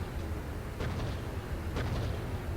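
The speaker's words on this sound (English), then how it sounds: "Those are good explosions then." In the Steel Beasts tank simulator video game, two muffled, distant explosions land about a second apart over a low, rumbling background, fairly faint overall.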